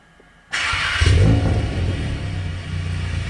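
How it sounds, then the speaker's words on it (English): A Volkswagen Golf R's exhaust bursts into a loud, close engine rumble as its valves open, swelling for a moment and then settling into a steady, slightly quieter drone. "So here's this sounds of the valves opening and closing"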